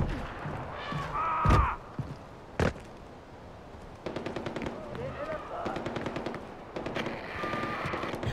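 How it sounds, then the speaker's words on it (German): Bursts of automatic gunfire crackle in Far Cry 4, rapid machine-gun rattles in several runs amid louder single blasts, with game voices and ambience mixed underneath. "Schüsse?"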